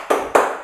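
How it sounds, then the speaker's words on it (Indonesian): A classroom begins a rhythmic tepuk semangat spirit clap, two sharp, loud claps spaced about a quarter second apart, each with a short ringing tail in a room. "akan melakukan tepuk semangat terlebih dahulu"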